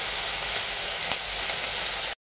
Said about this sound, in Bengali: আমাদের এবার চিংড়ি মাছগুলোকে দিয়ে দেব আমরা তেলের ভিতর।